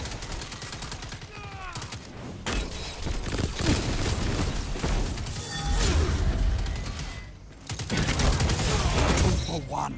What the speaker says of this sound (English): I'm just gonna keep shooting you.